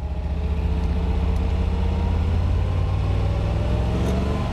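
A 1971 Corvette LT1 convertible's 330-horsepower 350 V8 runs at a steady, even pace, a deep continuous rumble with no pauses or talk over it.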